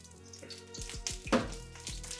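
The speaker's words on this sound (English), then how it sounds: "I've got about 3 tablespoons of olive oil straight into the pan" About three tablespoons of olive oil sizzling in a pan over medium-high heat, a soft continuous crackle with a few clinks of cookware, close and fairly quiet.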